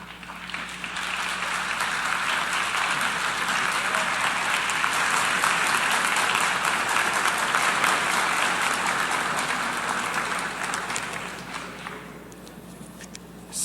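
An audience applauds during a televised Spanish-language speech on unfair coffee prices: sustained, dense clapping from a crowd, steady and strong for about twelve seconds before dying away quickly near the end.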